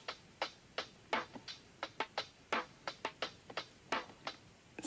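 A time-stretched lo-fi percussion loop made of quiet, crisp clicks and taps in an uneven repeating rhythm, soft and close, with no talk.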